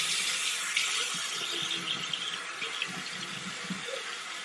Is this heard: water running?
yes